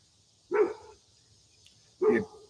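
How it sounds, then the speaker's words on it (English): Two separate dog barks, about a second and a half apart, sound at moderate distance against a quiet background with a faint steady high hum. "The dogs are on attack mode."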